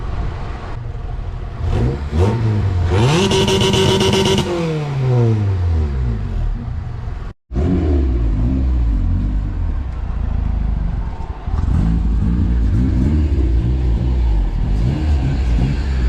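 A turbocharged Honda Civic hatchback with a K24A2 engine at 18 psi boost revs hard on a dyno in rising and falling surges, roaring loudly with a brief cutoff midway, then settles into a steady, heavy rumble.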